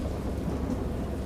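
A thunderstorm with heavy rain: a dense, steady wash of rainfall and a low rumbling of thunder throughout, loud and close, with no voices.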